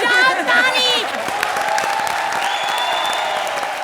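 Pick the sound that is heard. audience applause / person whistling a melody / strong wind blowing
audience applause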